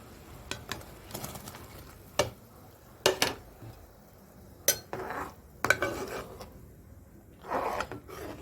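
Half a kilo of khoa goes into a pan of bread halwa in a village kitchen. Scattered spoon clinks and scrapes sound against a faint sizzle, with a longer stirring rustle near the end.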